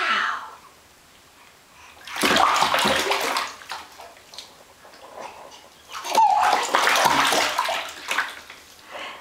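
A seven-month-old baby splashes and kicks in bathwater, with two loud bursts of sloshing and splashing separated by quieter stretches, close by, and a little soft background noise.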